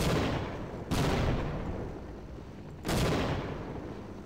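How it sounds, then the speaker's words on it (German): A large cannon fires in Half-Life: Source, with two heavy booming blasts about two seconds apart. Each blast decays slowly into a rumbling tail, and no one speaks. "wenn ich diese Kanone nehme und hier abfeuere"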